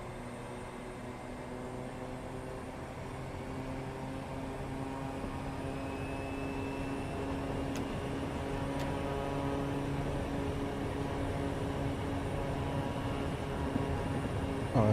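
A light aircraft takes off from runway 34 at Merrill Field, Anchorage, in Microsoft Flight Simulator, with a steady, fairly faint engine drone holding a constant tone that builds slightly over time, and no talk.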